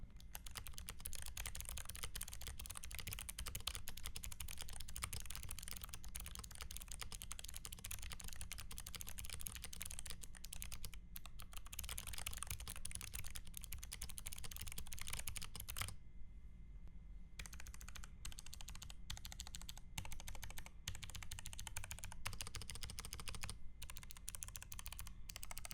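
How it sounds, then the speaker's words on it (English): Stock ASUS ROG Falchion RX low-profile keyboard being typed on, a dense, steady stream of close keystrokes with a brief pause near the middle, no talk. "let's take a listen to the keyboard stock"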